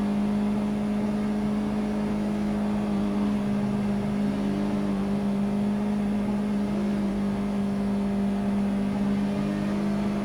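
Several racing cars run through Suzuka's Degner Curve in the iRacing sim, with a steady layered engine drone and shifting revs as the cars pass, continuous and fairly loud throughout.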